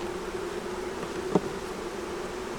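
Honey bees buzz steadily inside a hive kept through cold weather, a low continuous hum with a single brief knock near the middle, no voices.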